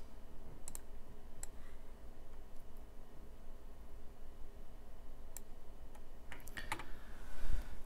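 A computer mouse clicks a few times at an office desk while setting up a PLC recipe download from an SQL database, the crisp clicks scattered and sparse over a faint steady room hiss.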